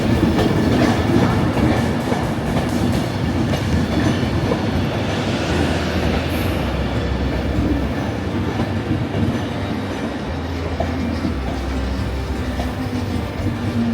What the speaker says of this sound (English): The 904 Avanti West Coast service from Carlisle up to Edinburgh Waverley.